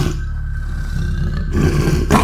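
A tiger growls in a deep, loud, sustained rumble lasting about two seconds, swelling slightly toward the end, alone with no talk over it.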